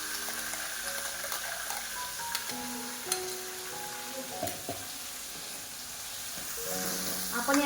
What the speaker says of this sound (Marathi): आता या तेलामध्ये मी हा जो मसाला बनवला आहे तो याच्यामध्ये ॲड करते